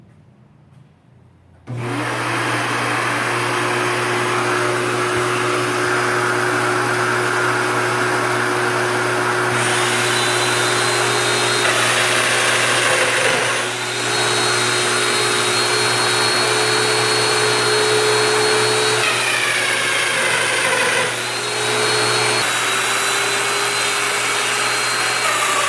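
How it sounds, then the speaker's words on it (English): A mortising machine cuts mortises for farmhouse table joints, a loud steady motor drone starting after a short quiet lead-in and continuing for the rest of the stretch, with shifts in pitch as the chisel plunges and lifts. "I'm going to cut my mortises with this machine"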